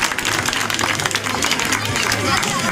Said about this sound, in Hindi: ताली बजाओ भी जोरदार ताली बजाओ